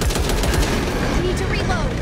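Dense, sustained automatic gunfire hammers away in the zombie shooter Back 4 Blood during a boss fight against the Abomination, loud and relentless, with game voices mixed into the din.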